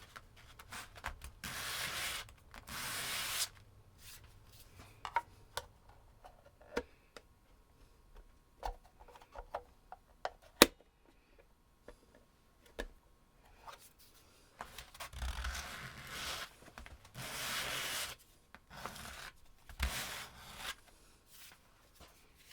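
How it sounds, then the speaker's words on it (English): Sandpaper is rubbed on a part of a Dean USA Cadillac Faded Denim guitar at the workbench, giving several short bursts of gritty scraping between quiet pauses and small taps, close by with no talking. "I wonder if I could run some sandpaper on there to make that fit a little better."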